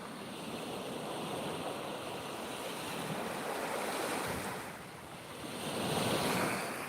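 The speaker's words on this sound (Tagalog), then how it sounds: "Nagbibideo ako dito sa dagat." Ocean waves wash onto the seashore at night, a steady broadband roar of surf that swells louder near the end, with some wind noise on the microphone and no voices.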